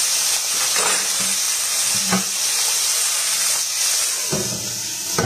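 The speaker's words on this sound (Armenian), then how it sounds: "Թողենք մյուս կողմն է տապակվի։" Fish frying in a pan with hot oil gives a steady, even sizzle and hiss throughout, broken by a few soft clinks and bumps from the pan.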